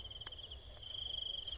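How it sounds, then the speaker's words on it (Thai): Crickets chirp in a rice field at night, a steady high trill that carries on without a break, with a low background hum and no voices. "เสียงจิ้งหรีดร้อง"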